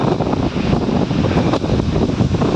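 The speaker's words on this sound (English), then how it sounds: "Jeez, that wind is really picking up." Strong wind roars steadily outdoors during tree felling of Leyland cypress, a dense, continuous gusting rush that fills the whole stretch with brief surges and dips, no voices present.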